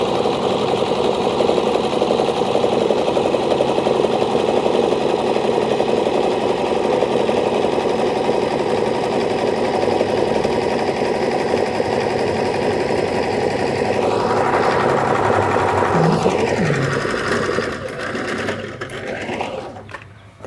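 An electric sewing machine running a zigzag stitch hums loud and steady in a fast, even whir for most of the span, then slows with rising and falling pitch sweeps before winding down near the end, with no speech.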